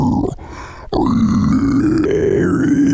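A low, gravelly growled voice runs through a Maonocaster AME2 mixer with the pitch effect set to its lowest setting, giving a deep monster-like rasp that breaks off briefly and then carries on loud and close for about three seconds.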